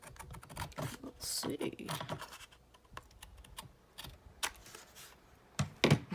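Scissors snip through fabric for a Tim Holtz journal cover in a series of quick, close clicks and crisp cuts, with a person talking briefly over them.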